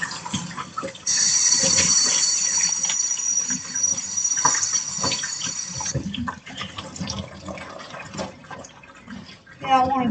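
Running tap water rinses cut cabbage under a kitchen faucet, a steady moderate splashing stream for several seconds, with a voice speaking faintly over it.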